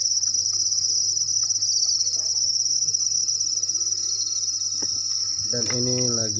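Honey crickets in a breeding enclosure chirp in a dense, high, continuous trill throughout, with faint rustling as they feed and a brief voice near the end.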